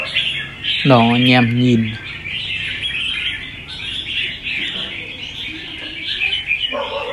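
Small songbird kept by a Vietnamese bird trader gives a quick run of bright, rapid chirps near the start, then faint calls among background sounds while someone talks.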